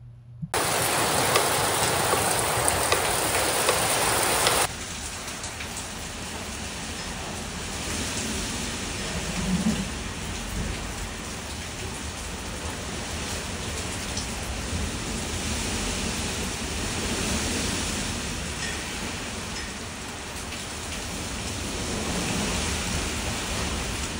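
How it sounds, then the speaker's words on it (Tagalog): Heavy typhoon rain pours down in a dense, steady roar, louder and harsher at the very start before settling into a continuous, even wash of downpour with no voices. "Started raining Monday morning and barely stopped, just short breaks before another wave of heavy rain."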